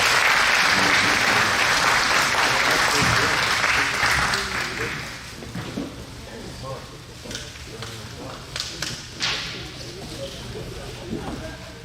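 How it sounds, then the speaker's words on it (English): Audience applause for a Signal Corps guest speaker at a WWII-themed talk, dense and loud at first, then thinning into scattered claps and murmuring over the last several seconds. "just give a round of applause for Don"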